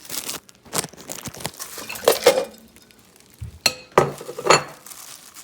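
Dishes clinking as a plate is grabbed in a kitchen, a few separate sharp clanks and rattles of plates and utensils with quiet pauses between them.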